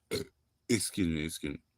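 A man burps several times in quick succession: one short burst, then a longer, deeper, drawn-out belch and a final short one, all close and fairly loud.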